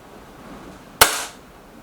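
A single sharp gunshot from an EB Arms XV2 rifle during test firing, close and loud with a short decaying echo, over quiet background.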